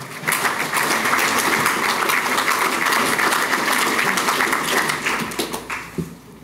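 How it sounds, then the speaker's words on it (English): Audience applause at a Chicago Transit Authority address, a dense, steady burst of clapping from a crowd that holds strong for several seconds and then tapers off near the end. "You can clap for that."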